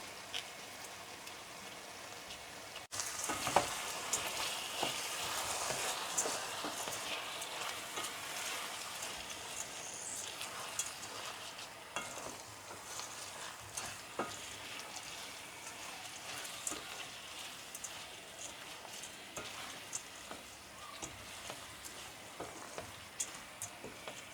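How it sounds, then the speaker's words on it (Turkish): Steady, fine sizzling and crackling of rice grains toasting in a hot pot, starting after a few seconds of quiet and continuing evenly throughout, close up. "Biraz da pirinçleri kavuracağız çünkü."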